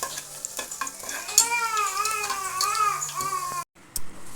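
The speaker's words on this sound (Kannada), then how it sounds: "ಬೆಳ್ಳುಳ್ಳಿ ಕರ್ದ ನೋಡ್ರಿ." Garlic fries in hot oil with a constant sizzle and stirring, while a loud, wavering, cry-like tone rises over it midway and then cuts off abruptly near the end.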